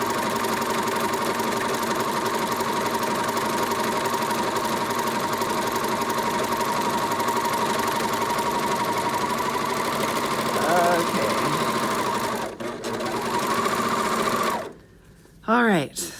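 A serger sewing machine runs steadily while serging the edges of a wallet, a loud continuous mechanical whir that stops near the end, with brief pauses and bursts, and a person talking nearby.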